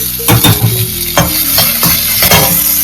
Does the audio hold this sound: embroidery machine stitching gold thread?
no